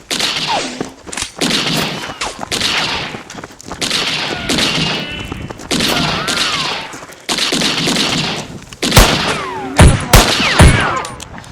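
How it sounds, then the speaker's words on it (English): Rapid gunfire crackles through a wooded firefight, bursts of shots and heavy thuds arriving in uneven clusters, loud and close, with dense shooting continuing throughout. "He's firing at us."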